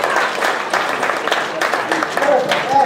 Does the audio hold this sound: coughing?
no